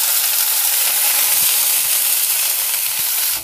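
Karamcha fruit dropped into hot oil with mustard seeds, giving a loud, dense, steady sizzle that fills the whole stretch with bright hiss and no voices.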